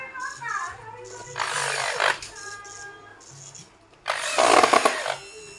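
Elco lock handle being fitted to an EXPO LP 2102 wardrobe, with two bursts of power-tool drilling or screwing into wood between quieter handling noises, close by and loud.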